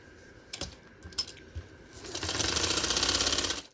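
Sewing machine stitching fabric on a trouser, starting with a few separate clicks and knocks, then running in a fast, steady, buzzing rattle for over a second before stopping, close up with no talking.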